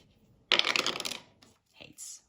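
A coin is flipped during a heads-or-tails game over cash stuffing and lands with a sharp metallic clatter and brief rattle, followed by a couple of softer small clinks.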